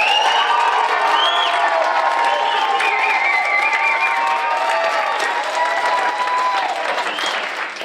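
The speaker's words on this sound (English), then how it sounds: "give him a round of applause" Audience applause with cheering and whoops from a crowd at a business seminar, loud and sustained with shouted voices over steady clapping throughout.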